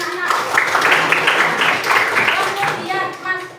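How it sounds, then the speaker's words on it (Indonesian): Schoolchildren in a classroom clap together in a loud, busy burst, mixed with children's voices chattering over and around the clapping. "Tepuk tangan anak-anak."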